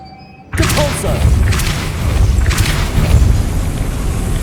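Depulso force spell cast in Hogwarts Legacy on PS5, a sudden loud booming blast after a brief quiet start, followed by a sustained rumbling wash with several sharp crackling bursts.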